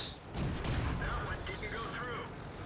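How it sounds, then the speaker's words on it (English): Tank gunfire in World of Tanks, a Covenanter firing on the player's Pz. B2, heard as booming shots with rumbling echoes and a voice talking over the battle. "Covenanter is laying some fire on me."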